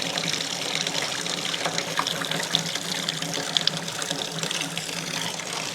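Water from a hillside spring pours steadily into a container on a mountain trail, a continuous close splashing and gurgling trickle with no talk over it.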